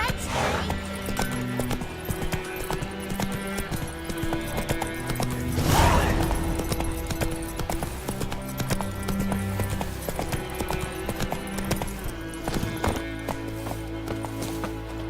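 Roach the horse from The Witcher 3 gallops with a steady, rapid clip-clop of hooves that runs the whole time, mixed with in-game music and ambience, and a short whinny rises near the middle.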